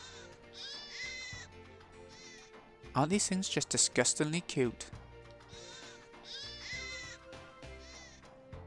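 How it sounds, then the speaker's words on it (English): Sheep-mice creatures from the Grandia 2 video game bleat in repeated high, wavering bursts as game sound effects, with someone talking excitedly over the middle part. "They are sheep mice!"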